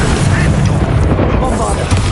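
A Confringo fire spell explodes in Hogwarts Legacy combat, a dense booming blast with rumbling low end under the clamor of a spell-filled fight.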